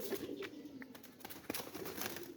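Pigeons collected from Lalbagh cooing faintly in a loft, soft low calls repeating over steady background noise.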